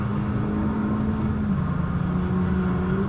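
A Honda Civic Type R engine drones steadily at high load through a Nurburgring lap, a continuous in-car tone with a slowly shifting pitch and no voices.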